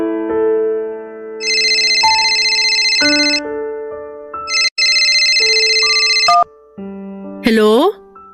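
A telephone ringtone plays a loud electronic melody of stepped tones in repeated bursts, close and clear, ending in a quick rising flourish, with no one talking over it.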